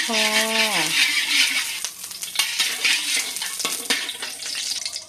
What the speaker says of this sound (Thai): เดี๋ยวเราขอผัดเครื่องแกงก่อนค่ะ